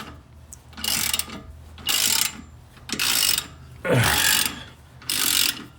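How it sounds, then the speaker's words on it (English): A ratchet with a 15 mm socket loosens a Jeep steering bolt in five evenly spaced bursts of rapid clicking, each about half a second long, separated by short pauses with faint handling noise. "We're going to take a 15 millimeter socket, and we're just going to loosen"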